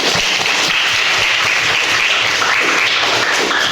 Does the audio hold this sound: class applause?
yes